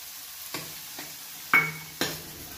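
Ginger and coriander are stirred in a hot pan, giving soft sizzling with a few sharp scraping clacks of the spoon against the pan.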